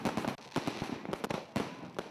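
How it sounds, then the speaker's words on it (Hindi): Diwali firecrackers bursting in a quick run of sharp cracks and bangs, fairly loud and close, with uneven rhythm and no voices. "आसमान में रोशनी बिखेरते ये पटाखे अंधेरे पर प्रकाश के जीत के साक्षी हैं।"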